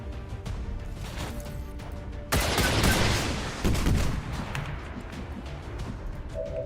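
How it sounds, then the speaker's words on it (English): Micro missiles firing from mechs in the video game XCOM 2, a dense burst of rapid explosive blasts erupting after a low rumble, with a second volley following shortly, loud and close. "Continue with the micro missiles"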